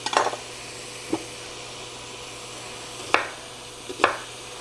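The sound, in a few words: chopping a whole onion into big slices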